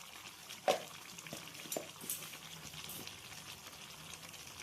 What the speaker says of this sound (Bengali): ডাঁটা আলু ভালোভাবে নাড়াচাড়া করে নেব।